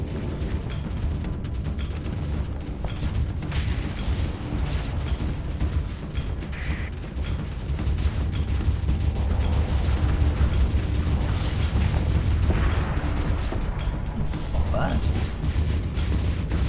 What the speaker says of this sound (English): Fire off another pair of missiles